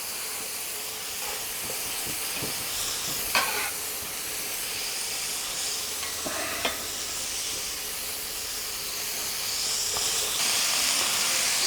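Garlic and ginger fry in a pan for pork chow mein, giving a continuous loud sizzle and steamy hiss, with a few brief clacks of stirring and the hiss rising toward the end.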